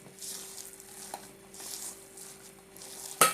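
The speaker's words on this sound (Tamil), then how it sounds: "இப்போ புதினா இலை, பச்சை மிளகா, கருவேப்பிலை எல்லாமே போட்டு நம்ம பார்த்திங்கன்னா ஒன்று நல்லா மிக்ஸ் பண்ணிக்கலாம்" Mint leaves, green chillies and curry leaves being stirred and mixed together, with soft rustling, stirring and faint sizzling under a steady hum, ending in a brief clink of a utensil.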